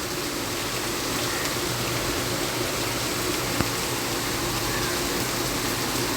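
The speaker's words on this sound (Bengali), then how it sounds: "ঝুমঝুম ঝুমঝুম করে বৃষ্টি পড়তেছে।" Heavy monsoon rain pouring steadily onto a tin roof, a dense continuous hiss and patter that stays loud throughout with no pauses.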